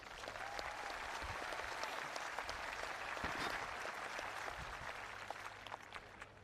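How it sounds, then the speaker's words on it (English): Audience at a high school graduation ceremony breaks into sustained applause for honor graduates, a dense wash of clapping across a large room, swelling slightly midway, with a few whistles and cheers. "Big round of applause."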